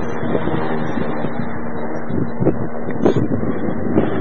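An HK 450 RC helicopter running outdoors in idle up two: a steady, loud, continuous motor-and-rotor drone with a humming tone, mixed with gusty wind buffeting the microphone.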